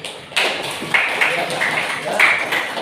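An audience of teachers breaks into applause, a lively mix of claps and taps under a busy backdrop of voices, steady and fairly loud.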